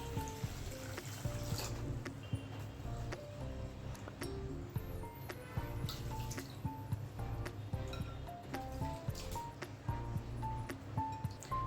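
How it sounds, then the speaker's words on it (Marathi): Basmati rice being washed in water, with continuous dripping, trickling and sloshing, plus rhythmic stirring and splashing of grains in a vessel, close by and fairly quiet, with no speech. "आता हा तांदूळ आपल्याला 2-3 पाण्याने स्वच्छ धुवून घ्यायचा आहे"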